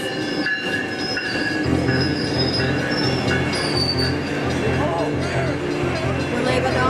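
A train rolls along with metal wheels squealing in high sustained tones over a rumbling, rhythmic clatter, loud and continuous, with voices mixed in.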